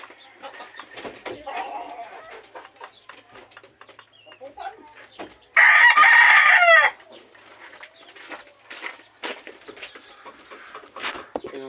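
Chickens cluck and scratch nearby while a rooster lets out one loud, drawn-out crow partway through, with occasional talking in the background.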